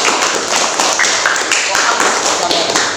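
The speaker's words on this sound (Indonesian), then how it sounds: "Tepuk tangan untuk kelompok." A classroom of students applauding a student group, dense broadband clapping that stays loud and steady throughout, close and filling the room.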